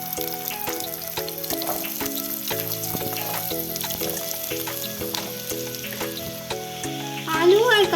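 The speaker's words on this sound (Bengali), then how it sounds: "পনির ভাজার ওই তেলের মধ্যে আলু আর গাজরটা ভেজে নেব।" Potato and carrot fry in leftover paneer oil, a steady close sizzle with sharp crackles running under background music.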